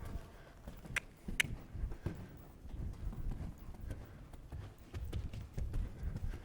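A show jumping horse's hooves clip-clop in an uneven rhythm during a riding clinic, with several sharper strikes among softer steps at moderate distance.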